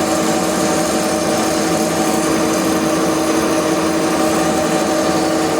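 A metal lathe cuts steel while supported in a steady rest, throwing off chips, producing a loud, continuous grinding drone with a dense, even hiss that runs unbroken throughout.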